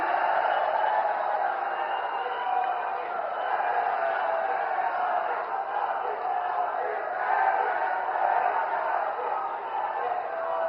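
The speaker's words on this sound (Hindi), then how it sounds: "आपकी जोरदार तालियों के साथ" A large crowd at an outdoor political rally in Kanpur applauds and cheers, a continuous, distant-sounding wash of clapping and raised voices held at an even level throughout.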